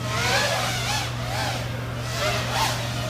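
A wound electric motor running at full throttle on a switchback climb, drawing around 30 to 35 amps, giving a steady loud whine with a constant low hum and gently wavering higher tones.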